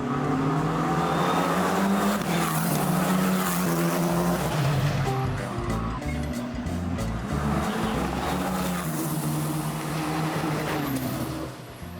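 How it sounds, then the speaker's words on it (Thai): Formula 4 open-wheel race cars on a racetrack at a speed festival, with a loud sustained engine roar and high revving as the cars race past, heard continuously and up close. "F4 รถตระกูลล้อเปิดที่เป็นจุดเริ่มต้นในการไต่เต้าขึ้นไปกับการแข่งขันรถที่ยิ่งใหญ่ที่สุดของโลกอย่าง F1"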